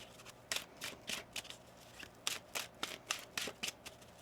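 Close, crisp tarot card shuffling in quick bursts of papery riffling, about a dozen rapid flicks in a steady rhythm, with no voices.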